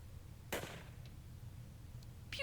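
A rifle in 60 Seconds Reatomized fires a single sharp, cracking shot over a quiet low background, followed by a second brief snap at the very end.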